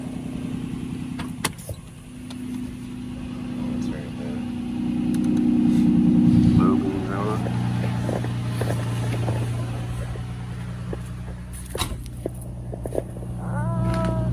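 An Infiniti G35 with a freshly replaced engine idles close by, a steady low hum that swells briefly as the revs rise midway, then settles back, with small clicks and a faint whine on top.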